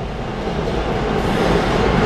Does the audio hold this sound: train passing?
yes